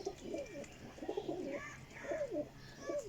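Several golden flying pigeons with new feathers cooing in repeated soft rolling phrases, close by, with a faint steady background hum and no talk.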